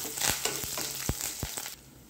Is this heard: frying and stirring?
yes